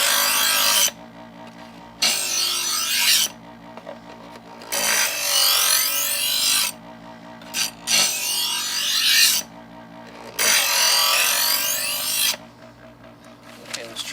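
Presto EverSharp electric knife sharpener grinding a knife blade: several loud, harsh rasping passes of a few seconds each, separated by the steady hum of the motor idling between strokes.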